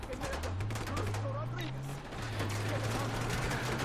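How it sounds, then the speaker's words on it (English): Militia gunfire in Just Cause 3: fast, evenly spaced bursts of automatic shots rattle continuously over a low droning engine hum, with someone talking underneath. "We're getting shot at."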